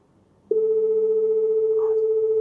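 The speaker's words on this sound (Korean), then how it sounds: "전화가 왔는데요." A steady electronic telephone tone starts abruptly and holds at one constant pitch, loud and continuous, with a faint low hum underneath.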